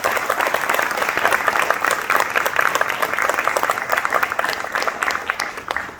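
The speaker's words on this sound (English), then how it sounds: "Can you give another round of applause for our speakers?" A conference audience at a Boston blockchain week event applauds the speakers, dense sustained clapping from a full room that holds steady for about six seconds before tapering slightly.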